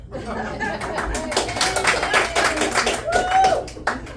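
Audience applause in a school lunch gathering about a high school band, scattered clapping with some chuckles and chatter, moderately close and brief.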